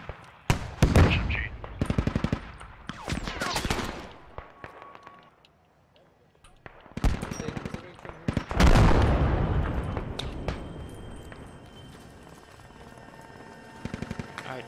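Bursts of automatic fire from a 12.7mm SMG in a Star Wars shooter battle against Tusken Raiders on Tatooine, loud rapid volleys with short pauses between them and other battle noise around.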